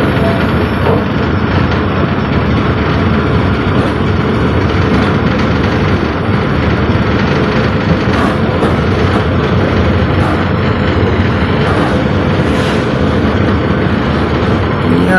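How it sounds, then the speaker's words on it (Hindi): Kamrup Express passenger train pulling out of Lumding station, a loud, steady rumble of wheels and carriages rolling continuously with faint clicking of rail joints, heard from on board. "सो एट लास्ट 15 मिनट की देरी से लामडिंग स्टेशन से हमारी कामरूप एक्सप्रेस निकल पड़ी है।"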